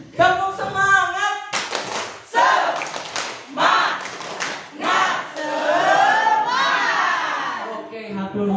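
Rhythmic group clapping chant at a community learning centre event, several sharp clap bursts mixed with crowd voices shouting and chanting, energetic and close.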